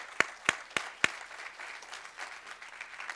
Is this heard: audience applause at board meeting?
yes